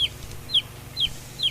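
Chicken clucking near a house: four short, sharp calls repeat at an even pace over a low background hum, with no talk.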